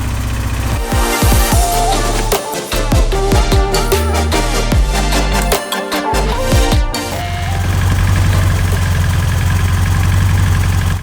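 A cheap auction motorcycle engine sputters and runs unevenly, loud and close, with rapid firing pulses and some revving before it settles into a rough, steady idle.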